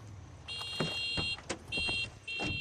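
Car horn honking in the Far Cry 6 video game, three long steady blasts with short gaps between them, loud and close over thumps and engine noise.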